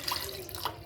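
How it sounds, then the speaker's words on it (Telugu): Water is poured over a lump of tamarind, about half a lemon in size, to soak it for pappu charu; a steady, close splashing and trickling runs through the whole short moment. "వాటర్ వేసి నానబెట్టుకుందాం చింతపండు."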